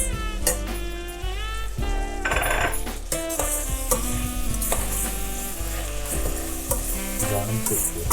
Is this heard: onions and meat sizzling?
yes